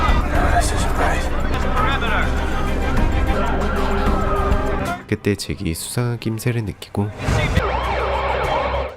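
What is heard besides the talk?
police car sirens in a film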